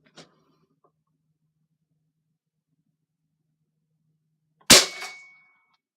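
A single loud, sharp report from an Umarex NXG APX air rifle near the end, preceded by a faint click and near silence, with a short ringing tail.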